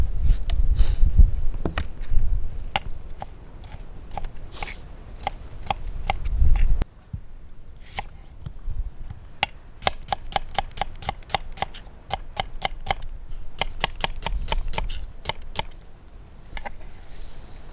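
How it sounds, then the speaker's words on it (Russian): A kitchen knife slices onion into half rings on a cutting board, giving crisp, sharp chops in quick runs and irregular bursts, close and clear with brief pauses between series. "нарезаем лук репчатый"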